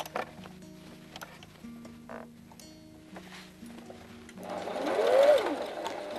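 A sewing machine stitches a fabric table cover, its steady mechanical whir running continuously and close, rising louder toward the end.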